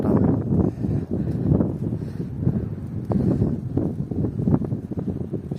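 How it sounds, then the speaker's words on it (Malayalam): Strong wind on a hilltop buffets the microphone in continuous low, rumbling gusts, loud and close, with no voices. "നല്ല കാറ്റുണ്ട്"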